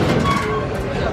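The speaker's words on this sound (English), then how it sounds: "that's our loop round here on the Serengeti Express. Beautiful attraction. Really like a train ride." The Serengeti Express train ride at Busch Gardens Tampa Bay gives a brief, close rolling rumble with faint rail clatter.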